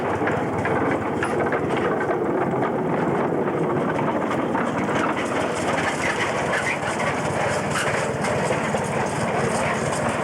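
A 15-inch narrow gauge light railway engine rumbles steadily down the line pulling a tool truck past the engine shed, a continuous loud engine drone and rolling clatter throughout.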